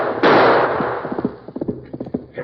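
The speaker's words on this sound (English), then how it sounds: "Once more, Big Jack turned in the saddle and fired at the masked figure behind him" A single sharp gunshot fired from horseback in a 1947 radio western, followed by a quick run of clip-clopping hoofbeats as the horse gallops on.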